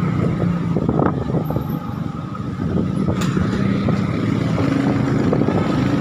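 A vehicle engine revs on a busy night street, a steady loud rumbling drone with mixed traffic noise and no break for the whole stretch.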